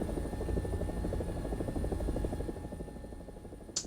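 An AB 205 A-1 helicopter, an Italian UH-1H, in a flight game gives a steady close rotor thump with rapid regular blade beats and engine hum, continuous throughout before a small bump at the end.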